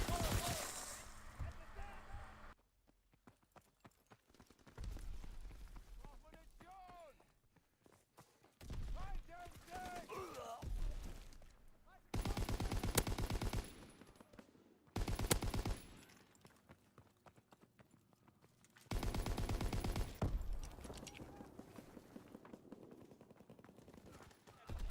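Bursts of Lewis LMG fire in Call of Duty WW2 gameplay, several loud sustained volleys separated by quieter stretches of footsteps and game ambience.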